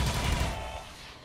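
A short, dense burst of gunfire aimed at an enemy in the XCOM 2 video game, loud and booming at first and then fading into a rumbling tail within about a second.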